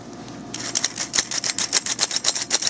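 Craft flock shaken through a kitchen sifter over paper, making a fast, steady run of crisp, close ticking clicks over a soft hiss.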